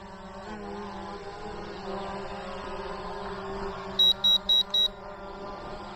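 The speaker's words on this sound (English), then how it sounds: "you got to have that beep whenever the gimbal's moving" A Visuo Zen K1 quadcopter drone's gimbal gives four quick, evenly spaced high-pitched beeps over a steady motor hum.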